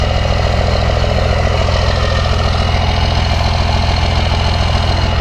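A warmed-up engine idles steadily and loudly up close, a constant low rumble with an even rhythmic chug and no voices.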